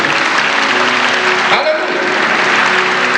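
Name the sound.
congregation applauding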